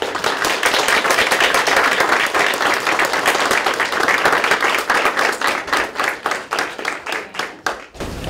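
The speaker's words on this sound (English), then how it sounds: "So with that, we want to give a round of applause to Grant." Sustained applause from an audience at an award presentation, loud and steady at first, then thinning into scattered claps toward the end.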